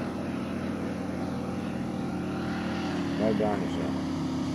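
Steady droning engine of a Douglas SBD-4 Dauntless in flight, a constant loud hum filling the background under a voice on the radio.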